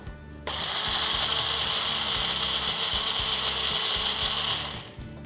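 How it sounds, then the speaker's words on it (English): A kitchen mixer grinder grinding chutney into a coarse paste, a loud continuous whirring roar lasting about four and a half seconds and then winding down, no voices. "now I'm going to cover this and grind it into a coarse paste."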